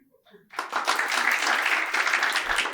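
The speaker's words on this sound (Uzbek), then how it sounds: "Bitta qarsak chop beraylik" A live audience at a stand-up comedy show breaks into applause after a brief quiet moment, the dense clapping rising quickly and holding steady and close until the end.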